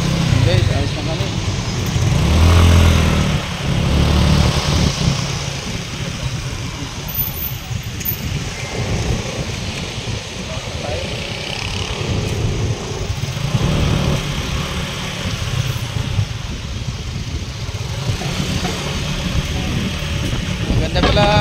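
A Yamaha Mio scooter's engine hums steadily while riding around BGC, a continuous mid-pitched drone with wind rumble, largely covered by someone talking over it.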